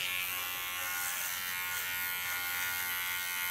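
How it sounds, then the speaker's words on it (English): An electric hair clipper buzzes steadily and close while cutting short hair in an ultra-short pixie cut, a continuous bright, even hum with no talking. "leaning on the skin, pulling my clipper in an angle"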